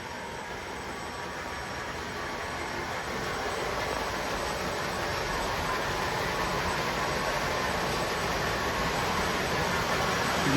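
3D printed model train engine hauling a long string of more than 30 cars, a steady rolling rumble and hiss that builds slightly in loudness, with no talking.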